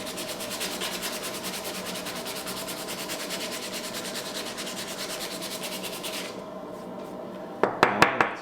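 Coarse sandpaper rubs back and forth over EAA Witness pistol grips in fast, steady strokes for several seconds. The scraping stops, then a few sharp handling knocks follow, all up close.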